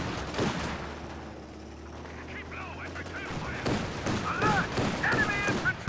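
Machine gun fire in the strategy game Company of Heroes 2, with two machine guns on one side of a 2v2 battle, crackling in dense bursts amid other battlefield noise under steady commentary.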